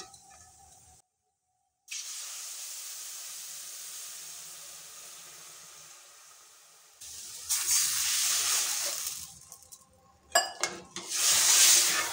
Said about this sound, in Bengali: লাল লাল করে ভেজে নিয়েছি ডালগুলো, দেখুন খুব সুন্দরভাবে ভাজা হয়ে গেছে। এবার আমি জল দিয়ে দিচ্ছি।